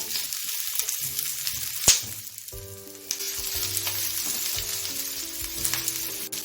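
Sliced onion frying in a pan over low heat, a constant close sizzle with occasional stirring scrapes and a sharp clink of utensil on metal, no voices over it.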